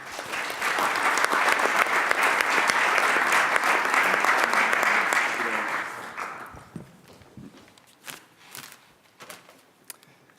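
An audience at a global energy summit applauds for a keynote speaker, dense steady clapping that fills the room for about six seconds before thinning into scattered claps and footsteps.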